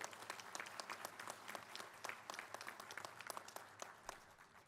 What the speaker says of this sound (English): So I'd like to get a little round of applause for the OMA for all the work they've been doing.